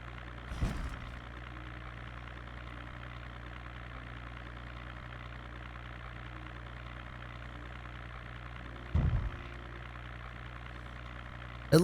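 A car engine drones steadily while driving in Project Zomboid, a low, even hum running throughout with a couple of brief louder bumps or clunks breaking in.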